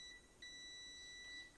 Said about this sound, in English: Okay, it beeps.